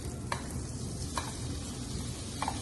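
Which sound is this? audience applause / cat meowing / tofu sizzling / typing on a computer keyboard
tofu sizzling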